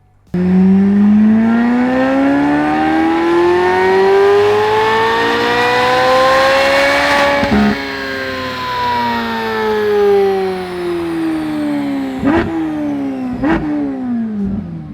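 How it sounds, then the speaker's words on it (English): A C8 Corvette Z06 engine with a straight-through, no-muffler exhaust revs up in one long rising pull with a harsh, raspy exhaust note, then settles and gives two sharp blips at the end. "if you want a rowdy exhaust, no muffler, straight through for your Z06"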